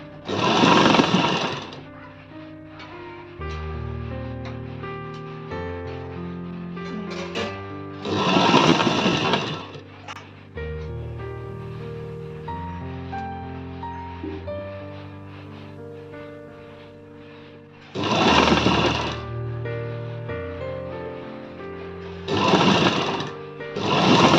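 Sewing machine stitching a blouse sleeve: loud close bursts of rapid mechanical whirring and needle clatter, several runs of a second or two separated by pauses, with a voice talking between bursts.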